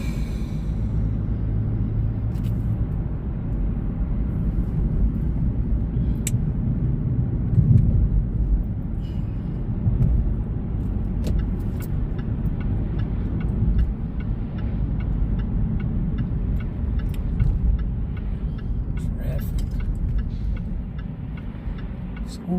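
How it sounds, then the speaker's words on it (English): Afternoon road traffic around school pickup time, a steady low rumble of passing cars heard from inside a vehicle, continuous and moderately loud with faint ticking over it. "look at this traffic"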